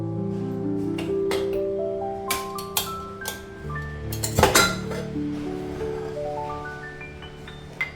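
Vegetables including eggplant tipped into a pressure cooker, a scatter of sharp metallic clinks and knocks at uneven intervals, close and loud over a steady kitchen hum with ringing tones.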